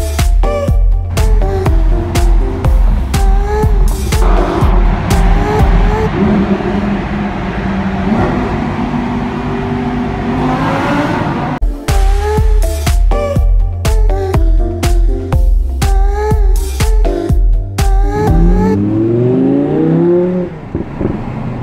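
Audi R8 with a 610 hp V10 engine, a loud mechanical drone broken by repeated sharp revs and bursts, ending in a rising surge of acceleration, heard close with no talking.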